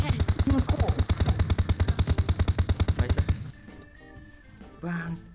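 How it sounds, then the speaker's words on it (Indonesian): Rapid automatic gunfire in the PUBG video game, a fast evenly spaced burst of about thirty shots lasting around three seconds, close and loud, followed by quieter game sounds and a brief voice. "Tembak dulu, Mek."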